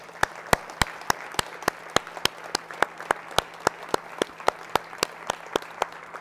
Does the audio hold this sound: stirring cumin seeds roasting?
no